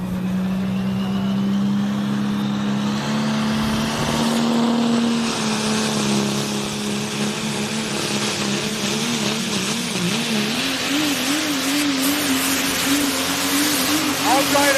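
A modified turbo pulling tractor, a Chapter 11 driven by Norman Newswanger, makes a loud, sustained engine roar with rising and wavering turbo whine at a truck and tractor pull, continuous and close, while a voice announces over it.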